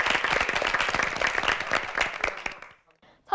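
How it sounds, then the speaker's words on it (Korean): Audience applause at a high school debate competition, a dense crowd of clapping that fills the room for nearly three seconds and then tapers off, followed by a brief voice. "박수로 환영해 주십시오"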